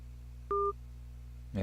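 A single short electronic busy-signal tone from a telephone call placed while testing an Android app, heard once clearly over low hum, followed right away by a voice starting to speak.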